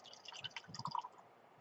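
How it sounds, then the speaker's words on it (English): Scentsy room spray liquid poured into a small jar, a brief soft trickle with a few drippy splashes, close and quiet with no talk. "And then you take this and you pour it right in."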